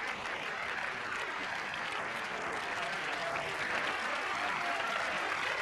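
Dense, steady applause mixed with cheering from a large audience greeting a Polish first-year high-school performer, continuous and fairly distant for the whole stretch.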